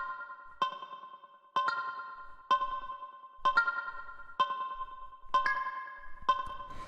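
Synth bell in a dreamy techno track plays seven evenly spaced, bright struck notes, each ringing with a shimmering decay and echo tail, alone and clearly upfront.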